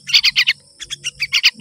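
A baby yellow-vented bulbul (terucukan) chick chirps in quick bursts of high, sharp calls, two close-by rapid runs of about four and six notes separated by a brief pause, with no talking.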